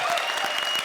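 Studio audience applause on a Hindi TV comedy show, a dense, steady burst of clapping filling the whole short moment with no speech over it.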